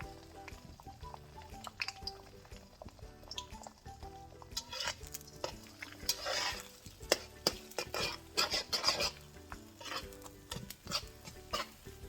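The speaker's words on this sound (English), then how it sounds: "I'm just going to pour that in there, and I'm going to scramble the egg." Beaten eggs scrambled in a hot oiled wok for shrimp fried rice: close utensil scraping and stirring against the pan over a soft sizzle, with irregular clinks and no talk.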